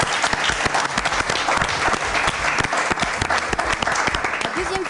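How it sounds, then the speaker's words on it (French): Lively audience applause during a makeup casting show finale, close, sharp individual claps over a thick crowd wash, with talking mixed in and a brief high vocal cheer near the end. "on peut encore l'applaudir"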